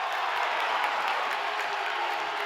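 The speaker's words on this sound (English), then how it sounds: "Galesburg crowd is outrageously mad." Home basketball crowd at a Galesburg boys game, a loud, steady wash of booing, shouting and clapping in a gym reacting to a foul call, sustained throughout with no lull.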